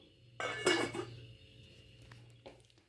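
Erissery is stirred in a cooking pot with a utensil, making a short clatter of metal on metal, followed by a single soft clink as a lid settles on top, close and quiet with no talk.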